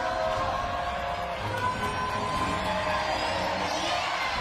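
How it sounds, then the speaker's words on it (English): A large outdoor crowd at the Singapore National Day Parade 2017 applauds and cheers the Red Lions parachute team, a dense, continuous roar of clapping and cheering at a distance, steady throughout. "Rapturous applause all round"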